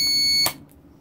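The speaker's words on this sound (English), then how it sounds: "And the alarm went off." An electric brewery controller's alarm sounds as a sharp, steady electronic tone, then cuts off abruptly partway through, leaving near silence.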